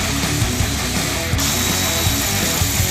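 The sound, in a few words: ratchet removing 7mm radiator shroud bolts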